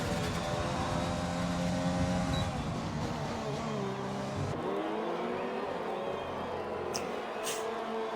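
An F1 race car starts a hot lap in a racing game, its engine droning loud and steady, climbing and dropping in pitch as it shifts through gears.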